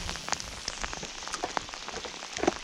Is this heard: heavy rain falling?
yes